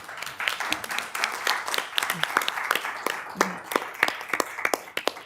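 Applause from an audience at a school board meeting during a superintendent's report, a dense patter of many hands clapping steadily for several seconds at a moderate distance.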